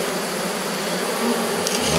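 Honey bees swarm and buzz densely around a hive frame during a mini-hive inspection, forming a continuous close drone with no talk.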